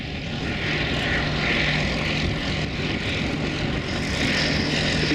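Boeing B-17 bomber flying a downwind circuit at an airfield, its multiple piston engines droning in a broad, steady roar that stays loud and even throughout, with no voices.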